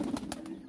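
Pigeons coo softly in a short, close burst of two or three low throaty pulses, with no voices present.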